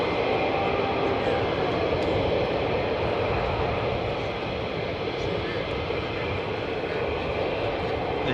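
A fighter jet taking off at RAF Lakenheath produces a loud, continuous broadband roar that stays strong and even from start to finish.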